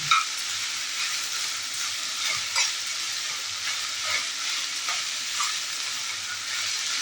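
Paneer chilli sizzles in a large pot over a high flame, with a bright, steady frying hiss and periodic scrapes and taps of a ladle as it is stirred quickly, close by.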